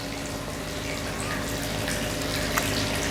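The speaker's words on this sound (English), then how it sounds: "I'm adding some water here, and as you can see, it's just flowing out" Water pours steadily into a fish tank as it is filled, a loud, continuous gushing rush with no breaks and no talking.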